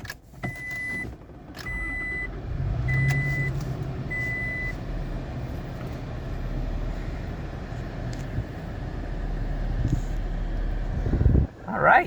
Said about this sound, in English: So what we're gonna do is we're gonna start the car